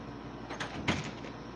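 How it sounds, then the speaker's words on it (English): A house door opened to let dogs in, with a sliding, scraping sweep followed by a louder thud or bump near the end, close by with no talking. "Let me open the door for my dogs"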